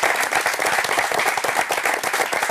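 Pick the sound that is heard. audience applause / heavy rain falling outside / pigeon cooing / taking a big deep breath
audience applause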